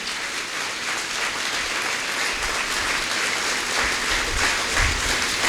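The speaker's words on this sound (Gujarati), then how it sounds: "તાળી પાડે પ્રભુની મહિમા કરીએ." A church congregation claps in praise after a prayer, a steady wash of many hands clapping together for several seconds, continuous and fairly loud, with no speech over it.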